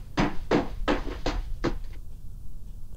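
A door being shut and locked in a visual novel game, heard as a close series of five sharp wooden knocks and thuds, followed by quiet.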